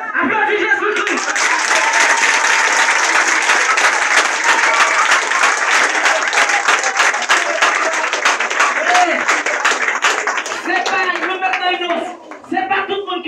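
A church congregation applauds loudly and steadily at a worship service, dense clapping mixed with crowd voices and cheers throughout, easing slightly near the end.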